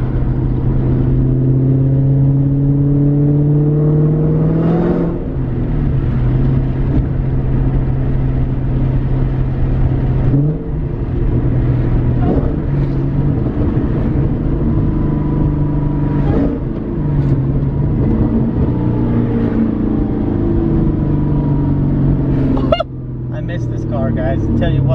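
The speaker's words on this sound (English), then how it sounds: "this car is so much fun to drive, so noisy" A loud car fitted with a Magnum transmission drives along, its engine droning and rising through several gear pulls with drops between shifts, steady road and cabin rumble underneath, one brief sharp clatter near the end.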